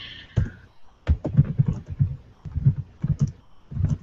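Computer keyboard typing, irregular bursts of close, crisp key clicks in quick clusters, with a brief faint voice at the start.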